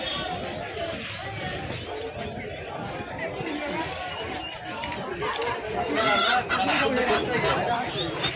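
Chickens clucking amid a busy poultry market at Guma haat near Kolkata, the birds faint beneath steady crowd chatter and nearby talking.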